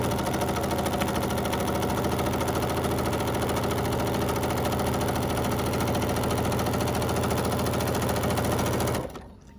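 A Bernina sewing machine fitted with a walking foot runs a straight line of quilting stitches, a close, steady rapid mechanical whir that continues unbroken for about nine seconds before stopping.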